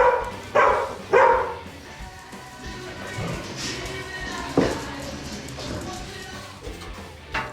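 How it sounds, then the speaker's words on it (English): Puppies give a few short, sharp barks and yips near the start and again midway, nearby in a home, with a background murmur and some talking. "Puppies!"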